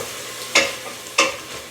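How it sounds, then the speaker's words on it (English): Canned mushrooms stirred into frying onions: a soft continuous sizzle broken by two distinct scraping stirs about half a second apart. "I'm going to throw in a can of my canned mushrooms. And give that like a little bit of a swirl."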